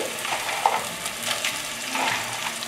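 Dried hot chilies and tangerine peel stir-fry in a hot pan, a continuous close sizzle with light scraping strokes of stirring and a brief sharp clink partway through.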